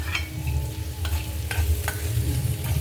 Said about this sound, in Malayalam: ഇതുപോലെ നല്ലപോലെ മിക്സ് ചെയ്ത് നമുക്ക് അതൊക്കെ അടച്ച് വയ്ക്കാം.